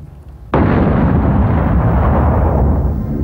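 Gasoline mortars set behind building windows fire as a film pyrotechnic explosion: a sudden loud blast after a short quiet lead-in, then a sustained heavy roar and rumble of burning fuel that stays strong to the end.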